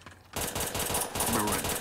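Rapid automatic gunfire rattles in a video game set in the South Bronx, starting abruptly after a short quiet moment and continuing as dense, loud bursts.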